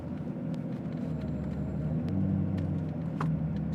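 A 2003 Lamborghini Murciélago with a manual gearbox idles with its V12 running as a steady low rumble and faint harmonic whine, heard up close with no voices.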